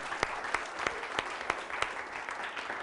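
Audience applause at a film festival screening event, a steady patter of clapping with distinct sharp claps standing out at regular intervals, moderately distant and fairly quiet.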